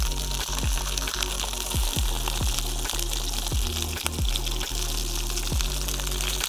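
Fresh fish frying in hot oil in a pan outdoors by the water, a steady close sizzle broken by repeated sharp pops and crackles, with no talking.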